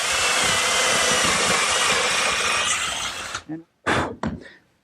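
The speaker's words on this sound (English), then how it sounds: "drilling a 3/8 inch hole through the tenon" An electric drill boring a 3/8 inch hole through a wooden tenon whines steadily for about three seconds, then stops, followed by a few short bursts as the trigger is pulsed.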